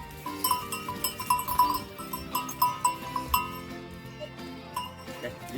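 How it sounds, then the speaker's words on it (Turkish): Several Sakız sheep bleat in quick, overlapping bursts, close by, with a faint clink of a bell among them and no talking. "Kocamın koyununu da göstereyim."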